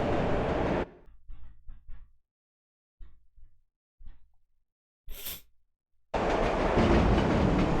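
A train in a video game rumbles loudly past, cuts off to near silence broken by faint clanks and a brief hiss, then its heavy roar returns just as strongly.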